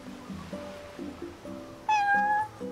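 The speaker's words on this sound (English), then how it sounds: "Hello there, kitty." A cat meows repeatedly in Final Fantasy XV, a run of short mid-pitched mews ending in one louder, higher drawn-out cry, close and clear.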